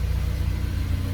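An FD2 car engine idles with the hood open, a steady low rumble close by with a constant, even hum and no voices.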